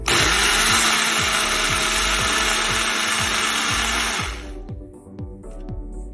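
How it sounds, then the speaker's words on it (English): A blender whirs loudly blending creamy jalapeno sauce with a steady, pulsing grind, then winds down near the end, leaving a quieter hum and faint clinks. "I'm going to blend up the creamy jalapeno sauce"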